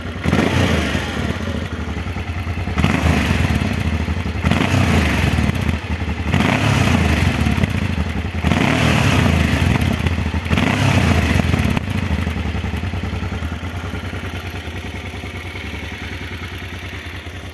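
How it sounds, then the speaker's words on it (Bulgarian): A 1987 Honda XL600V Transalp motorcycle engine running close by, rising and falling in bursts with a rough, crackling popping as the throttle eases off. "Като връщам газта се чува едно препукване"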